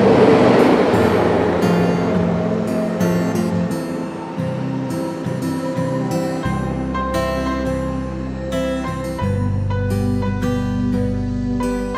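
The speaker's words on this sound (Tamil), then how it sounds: "இங்கே ட்ரெயின் வந்துடுச்சு." A train rumbles loud and close with a steady, heavy drone that shifts in pitch in distinct steps, heard from nearby on a trip through Salem toward Attur in Tamil Nadu.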